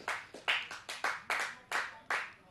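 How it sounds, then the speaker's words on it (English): Someone in a cricket commentary box claps for a big six: about a dozen close, crisp hand claps in a steady rhythm, with no talk over them. "A round of applause in the com box as well."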